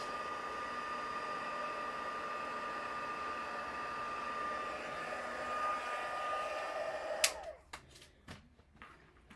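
An embossing heat tool blows hot air to set embossing powder on glitter paper, a steady close whooshing whine that cuts off abruptly near the end, followed by a few soft clicks and knocks.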